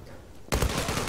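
Gunfire in the shooter game Zula bursts in suddenly halfway through after a quiet stretch, a loud, dense run of rapid shots that keeps going to the end.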